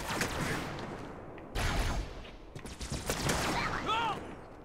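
Gunfire and explosions from a weapon in Halo 2 Anniversary, heavy and continuous for several seconds with short pauses, layered with other game effects.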